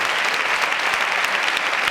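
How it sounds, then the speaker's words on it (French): A French television studio audience bursts into steady, dense applause, filling the whole moment without any voices on top. "Applaudissements pour eux."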